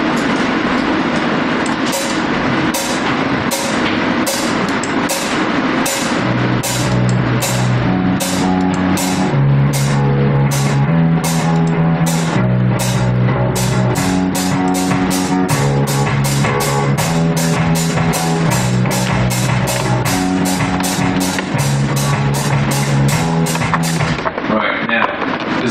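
Bass guitar DI track played back in Ableton Live within a full mix, a steady rhythmic bass line moving between low notes under dense driving drums with regular hi-hat ticks, loud and continuous.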